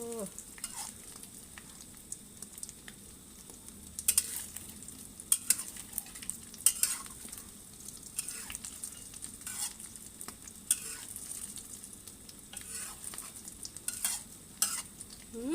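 Beaten eggs for a Thai omelette sizzle steadily in a hot pan while a utensil stirs and scrapes them, with irregular clicks and scrapes over the constant frying hiss.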